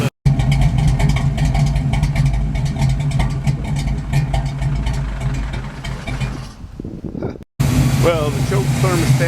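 A Pontiac Firebird engine fitted with a new Quadrajet carburetor runs loud and close at a steady rumble that drops away and cuts out briefly before it starts up again. Someone talks over it.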